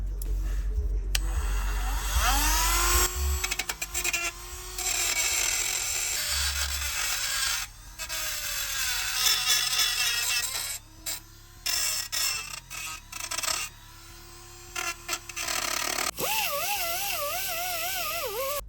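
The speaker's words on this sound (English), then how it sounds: "So for this I really just want to sand through the paint." A power tool sands through the paint on the steel rear trailing arms of a stanced Jeep Patriot, a loud, close, continuous whirring grind whose pitch rises and falls with brief pauses, and no one talks.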